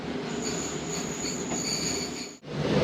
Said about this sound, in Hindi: ट्रेन पहुंची है साहिवाल रेलवे स्टेशन।